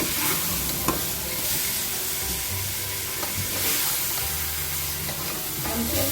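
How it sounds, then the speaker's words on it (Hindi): Meat, for Peshawari namkeen gosht, sizzles steadily in hot oil with garlic and ginger while a utensil stirs and scrapes the pan in an irregular rhythm, up close and without talk. "कलर चेंज होने तक इसको हम लहसुन अदरक में थोड़ा सा रोस्ट करेंगे"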